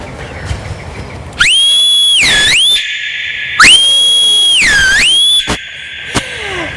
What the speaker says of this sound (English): So I whistled.